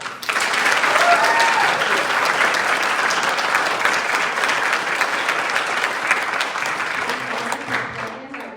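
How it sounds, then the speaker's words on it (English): A crowd applauds loudly and steadily, sustained clapping that holds for several seconds before easing slightly near the end. "Can we give them a round of applause?"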